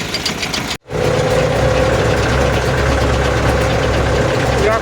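A Scout 404C tractor runs in third gear at about 1900 rpm while pulling a 400-litre sprayer applying soil herbicide in a pumpkin field, giving a loud, steady engine drone after a brief dropout near the start.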